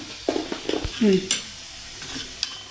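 Masala pasta ingredients seasoned with salt and chilli are stirred in a pan, giving soft scraping and clinking strokes alongside a light sizzle, with a brief murmur of speech in between.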